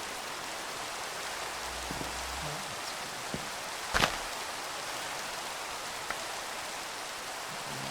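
Steady Minecraft rain hisses throughout with a few faint drips and clicks, and a brief sharp crackle midway; a voice speaks briefly.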